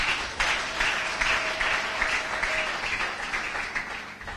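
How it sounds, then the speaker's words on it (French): Congregation applause at a French-language church sermon, a dense, steady wash of clapping that carries on evenly for several seconds with no speech over it. "Acclame la parole du Seigneur."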